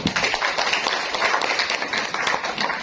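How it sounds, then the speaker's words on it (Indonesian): Audience clapping at a Golkar party plenary meeting in Nias Barat: a dense, steady patter of many hands applauding close by, continuous throughout with no speech. "Tepuk tangan dulu."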